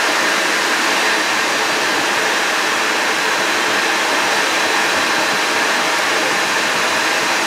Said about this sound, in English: But the vacuum is in my ear.